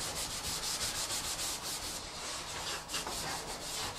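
A metal blade scraping baked-on grease off the inside of an oven, working up toward a top corner: a continuous close, rough rasping with rhythmic back-and-forth strokes and no talking.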